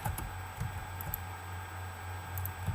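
Computer keys clacking in short irregular bursts, a few quick presses at a time, close and fairly crisp over a faint electronic hum, while playing PUBG.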